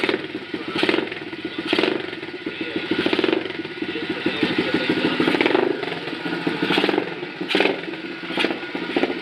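A Stomp 120cc pit bike engine idles with a close, rattly putter, given a few small throttle blips that swell and fall back at a steady pace.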